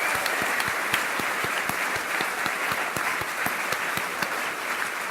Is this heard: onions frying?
no